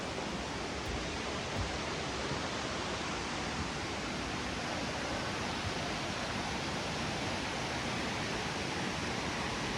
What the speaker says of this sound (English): Enjoy that soothing sound of the falls